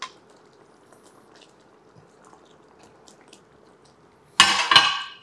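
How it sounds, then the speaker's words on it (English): Tofu pieces and carrots drop into a pot of simmering peanut curry, a short wet splash and clatter near the end after a quiet stretch of low simmering. "I'm gonna throw in my carrots. And carefully slide in my tofu pieces"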